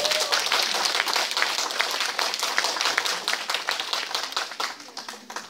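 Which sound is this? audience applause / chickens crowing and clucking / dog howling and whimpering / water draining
audience applause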